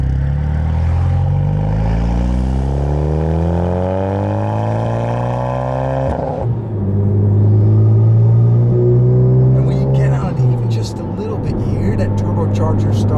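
A turbocharged 2017 Honda Civic Type R (FK8) engine revs and climbs in pitch as it accelerates, drops abruptly at a gear change, then pulls again with a deep rumble.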